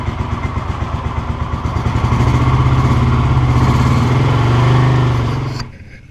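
A restored 1982 Honda CX500 motorcycle runs up close and loud. Its throbbing engine rises from a pulsing idle into a steadier, fuller drone, then drops off sharply near the end.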